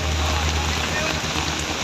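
Heavy rain pours over high mountains, a steady dense hiss with a constant low rumble and no pauses across the short stretch.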